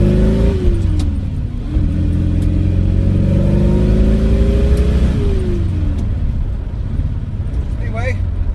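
A car fitted with a Magnaflow muffler revs its exhaust, the engine note climbing and falling through several loud, close sweeps, with a voice speaking over it.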